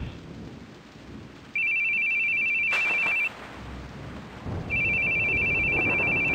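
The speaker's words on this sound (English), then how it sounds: "Your phone's ringing." A phone rings in The Boogie Man video game, giving two sustained electronic ring bursts over a rumbling, rain-like ambient backdrop, loud and close, with no talking.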